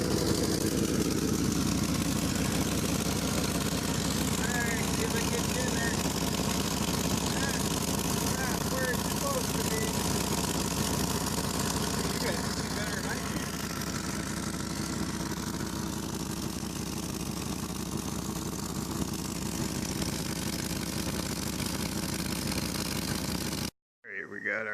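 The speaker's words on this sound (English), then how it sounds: "Got an exhaust leak." A Lamborghini Countach replica engine idles steadily with an exhaust leak, a continuous rumbling drone held close throughout, with talk over it and a brief cutout near the end.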